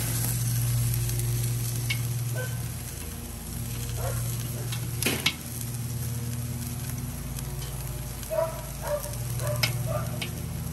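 Ribeye steaks sizzle and crackle steadily on an SnS kettle grill right after flipping, a close continuous fry with scattered pops and a few sharp clanks of tools.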